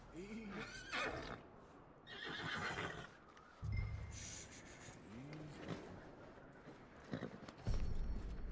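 A horse whinnies in a Red Dead Redemption 2 cutscene, its neighs rising clearly several times at close range over hooves and ambient noise, with a low rumble and short bursts of speech mixed in.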